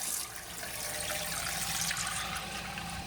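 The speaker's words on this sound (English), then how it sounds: "now I'm going to go ahead and put the water back in, let it fill up." Water steadily rushing into a toilet tank as it refills after a flapper valve repair, a continuous hissing flow with no talk.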